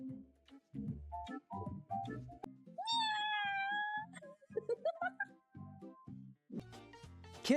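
A kitten gives a drawn-out, rising meow amid a busy home scene, surrounded by chatter and other household noise, the cry standing out clearly for about a second.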